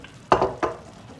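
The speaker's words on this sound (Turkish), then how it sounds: "Ve zeytinyağı tekrar döküyorum arkadaşlarım." Olive oil hits a pan of artichokes in two quick, close sizzling bursts, with the second softer than the first, then fades to a faint hiss.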